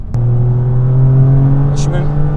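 A small car engine hums and rises gently in pitch under light throttle, heard from inside the cabin of a 2024 Toyota GR Yaris with a turbocharged 1.6-litre three-cylinder.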